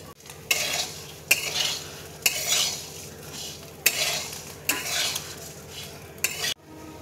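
Fried sev is stirred into flattened rice (chire) frying in a pan, with a spoon scraping and clinking against the metal every second or so over a soft, steady sizzle.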